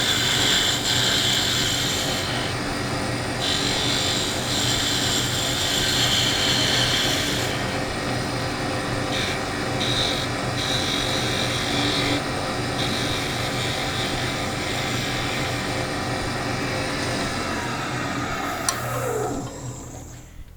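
A skew chisel shears a wood blank spinning on a lathe, giving a continuous loud, hissing whir with the motor's hum beneath it. The sound holds steady, then tapers off near the end.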